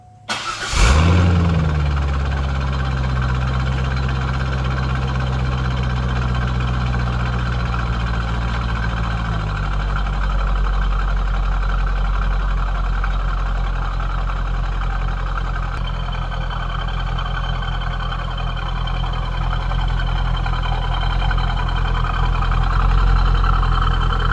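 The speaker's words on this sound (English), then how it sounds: "So how does the idle sound now?" A C5 Corvette V8 with an exhaust bypass mod cranks and fires up, then settles into a loud, steady, deep idle with a throaty rumble that continues throughout.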